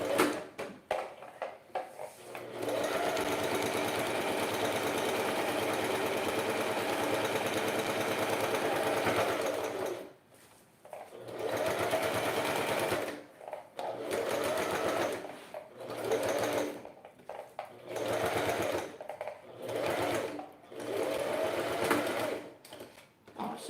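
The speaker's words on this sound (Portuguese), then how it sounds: "eu vou vir aqui, ó, e vou costurar começando de cima com um pé de máquina" A sewing machine stitches the fabric of a wine bottle holder in a long continuous run, then in a series of short bursts with brief pauses between them, loud and close with no talking.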